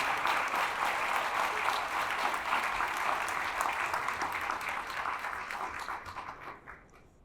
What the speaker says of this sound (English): Let us give yourself a round of applause.